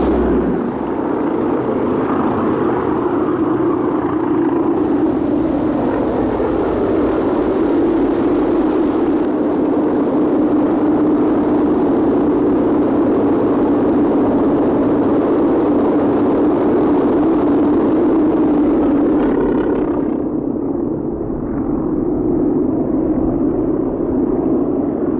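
Polikarpov I-153 warbird biplanes, eight flying together at the Warbirds over Wanaka 2000 air show, make a loud, steady propeller engine drone that holds throughout with no break.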